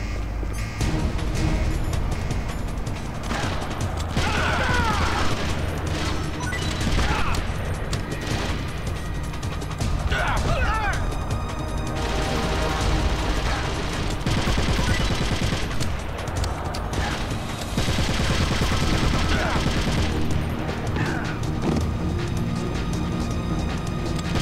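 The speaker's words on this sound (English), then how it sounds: "let's shoot some dudes" Sustained gunfire from the Metal Gear Solid game, with dense, continuous bursts of shooting and loud crashing impacts running steadily throughout, occasional higher whistling effects layered over the constant barrage.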